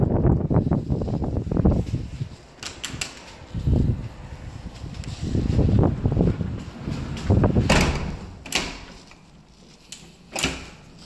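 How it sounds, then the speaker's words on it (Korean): Strong gusts of wind roar and buffet across the top of a wooden house roof, rising and falling in loud surges, with a few sharp knocks and rattles between the gusts. "바람이 많이 부네요"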